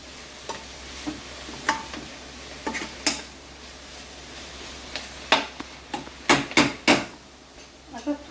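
Potatoes sautéed in a pan for a Saraswat-style aloo bhaji, a spoon scraping and knocking against the pan in irregular stirring strokes over a faint frying sizzle, fairly close and free of talk.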